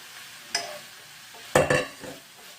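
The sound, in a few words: stir-frying meat with dried pumpkin strips for tteokbokki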